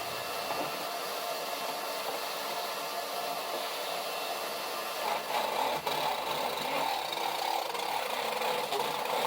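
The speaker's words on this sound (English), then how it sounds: "So I've decided to disguise it with the noise of the Hoover instead." A loud, steady Hoover vacuum cleaner roar drones continuously throughout, its pitch shifting slightly partway through.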